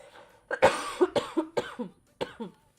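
A run of harsh, chesty coughs in quick succession, close and fairly loud, then a short pause and two more coughs.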